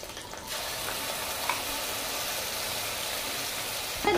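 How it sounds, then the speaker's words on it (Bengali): Spices, salt and turmeric fry in a pan with okra and mustard, a steady close sizzle that starts after a quiet half second and holds evenly throughout, with no talking. "এটা লাল করে ভেজে নিচ্ছি।"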